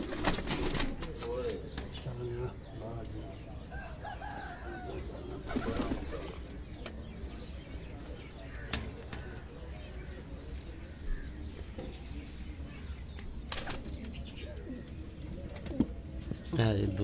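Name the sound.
pigeons cooing, baby pigeons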